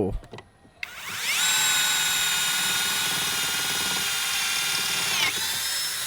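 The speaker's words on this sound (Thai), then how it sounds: "ต่อไปเรามาเจาะไม้กันบ้างนะครับผมใช้เป็นดอกสวรรค์ตัวเดิม เดี๋ยวลองมาเจาะดู" A MASARU SCDI cordless impact driver, fitted as a drill, bores into wood with a loud, steady high motor whine that runs about four and a half seconds before winding down, with no talk over it.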